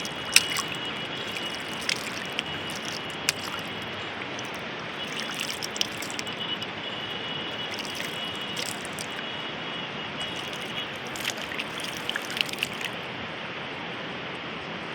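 River water flowing steadily near an old royal palace in Madhya Pradesh, a continuous close trickling and gushing wash with small splashes and no talk.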